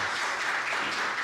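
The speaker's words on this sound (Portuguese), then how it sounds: "vamos aplaudir" A church congregation applauds during a worship service, steady dense clapping filling a brief moment with no voices standing out.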